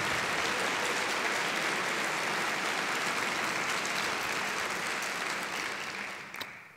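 A large crowd at a university address applauds steadily in a dense, sustained wash of clapping that fades out toward the end.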